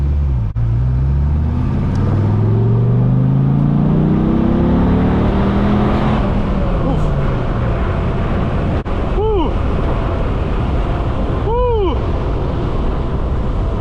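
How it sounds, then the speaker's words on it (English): A powerful 2004 Dodge Viper SRT10 engine revs and accelerates up through the gears, loud and close, with a couple of sharp whooshing shifts later on. "This is one fast car, I gotta say."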